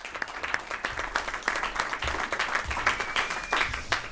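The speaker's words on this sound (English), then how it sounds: "Give him a round of applause." Audience applause in a legislative education policy subcommittee hearing room, a moderate burst of many hands clapping with distinct individual claps, steady for a few seconds with faint background voices.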